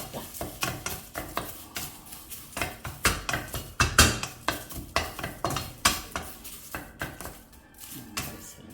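Sesame seeds dry roasting for ellu podi crackle and pop in a pan, with dense, irregular bursts of sharp crackles and occasional scraping from stirring, loud and close without talk.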